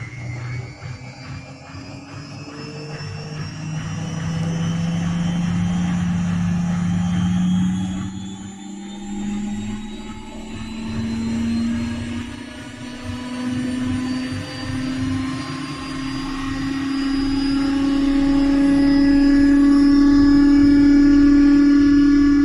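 A Miele Softtronic washing machine motor accelerates toward 1600 rpm in a test program, giving a loud, steady whine whose tones climb gradually over a continuous low hum, with no talking.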